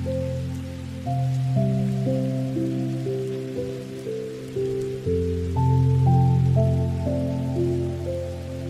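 Water falls steadily in a soft, continuous patter, with live musicians playing a sustained melodic tune close by that stays prominent throughout.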